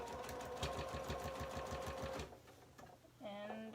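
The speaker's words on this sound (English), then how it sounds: "Okay, so I am doing the top stitching down," A sewing machine top stitches white cotton cloth in a fast, even, close rhythmic whir that stops partway through, followed by a brief voice.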